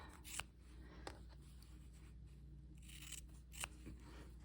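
Scissors snip through quilt fabric pieces being cut for a pansy quilt block, a few crisp separate cuts spaced over several seconds, close and fairly quiet with no talking.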